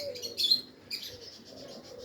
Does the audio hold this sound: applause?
no